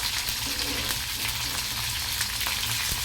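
Chopped onion, garlic and green chilli frying in a pan for vegetable khichdi make a dense, even, close sizzle with faint stirring taps throughout, and no voices.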